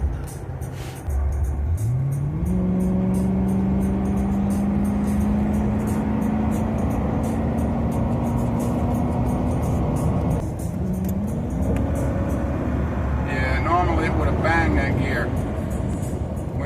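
A Ford Crown Victoria with a 4.6L engine drives on a test run, its engine drone rising and holding through gear changes under a steady road rumble, with faint talk near the end.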